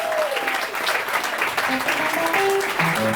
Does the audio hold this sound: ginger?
no